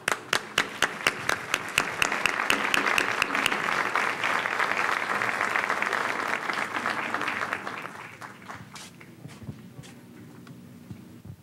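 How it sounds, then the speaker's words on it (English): An audience at a seminar gives a welcoming round of applause, starting with a few sharp claps, swelling into dense clapping and then fading out over several seconds. "Please welcome Mr. Dominguez Ferraez with a warm round of applause."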